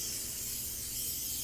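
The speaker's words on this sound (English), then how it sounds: "I like to spray my umbrellas with a anti-mildew spray" Anti-mildew spray hits a fabric umbrella in a steady, close aerosol hiss that holds evenly throughout, with no voices over it.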